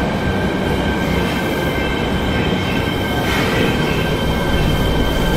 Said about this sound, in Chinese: 地铁就来了